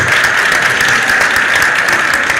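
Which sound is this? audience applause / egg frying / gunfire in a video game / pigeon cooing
audience applause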